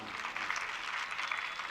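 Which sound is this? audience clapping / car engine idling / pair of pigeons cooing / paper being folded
audience clapping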